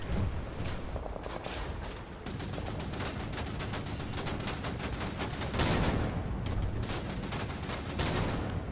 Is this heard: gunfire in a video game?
yes